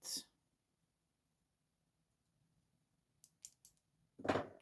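Three quick, crisp scissor snips cutting yarn in near silence, then a brief rustle.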